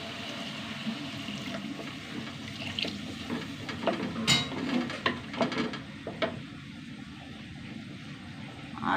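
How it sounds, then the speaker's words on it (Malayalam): Water is poured into a pan of okra curry, giving a close splashing, gurgling pour. Clinks of a utensil against the pan come and go, and the sound grows busier partway through. "ആവശ്യത്തിന് വെള്ളം ഒഴിച്ചു."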